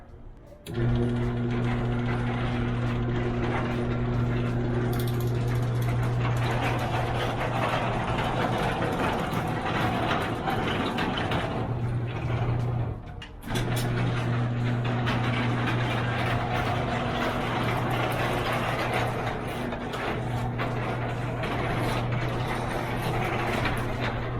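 A residential garage door fitted with a new top strut runs on its operator with a steady mechanical hum and whir that lasts over twenty seconds, pausing briefly midway before resuming, close and continuous, with no talking.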